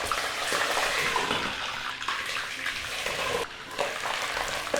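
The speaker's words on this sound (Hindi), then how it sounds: "ये गोभी जो है फ्राई करेंगे ना तो बहुत तेल उड़ेगा। गर्म हो गया तेल," Cauliflower hisses and crackles as it fries in hot mustard oil in a kadhai, a loud, continuous sizzle with brief dips, close by and without talk.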